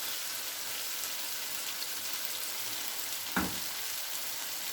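Vegetables with tomato paste sizzle softly in a pan for a cheesy vegetable pasta, a faint steady hiss with one brief knock of a utensil near the end.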